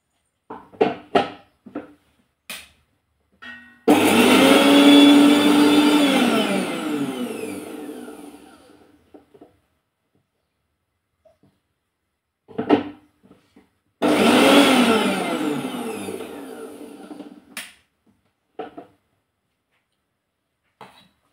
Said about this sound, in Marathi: यामध्ये हिरवी मिरची आणि लसूण आहे, ते आपण जाडसर असं वाटून घेणार आहोत।